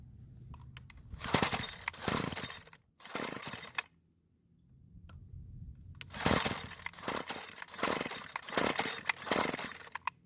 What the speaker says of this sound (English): Now I'll try starting it.